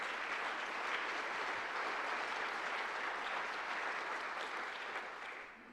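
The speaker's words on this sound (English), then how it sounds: "I'd like a round of applause for our institution for getting this award." A banquet audience at an athletics legacy award dinner applauds at length, a soft, even wash of many hands clapping at a distance, steady until it tapers off at the end.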